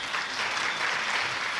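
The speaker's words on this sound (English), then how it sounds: "Our applause once again." A large audience claps at the opening of a global real estate leaders' summit in Kaohsiung after a traditional Taiwanese drum performance, a full and sustained wash of applause from many hands that stays steady to the end.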